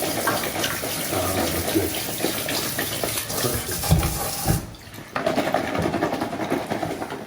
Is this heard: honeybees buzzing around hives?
no